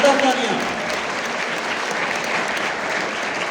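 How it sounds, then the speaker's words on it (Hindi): An audience claps loudly at a school's annual farewell function, a dense, sustained burst of applause under a brief voice at the start. "जोरदार तालियां।"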